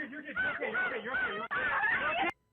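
A crow calls several times in a yard in upstate New York, with harsh, honking caws in quick succession that are loud and close, broken by a brief pause before a final burst and then silence.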